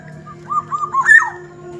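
A short fluting, liquid whistle from a black-naped oriole, a few rising and falling notes close by, alone over a faint background hum.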